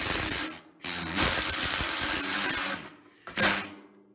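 An OX planishing hammer flattens a weld on sheet metal in rapid bursts of close, loud metallic rattling hits, pausing briefly between runs before a final short burst.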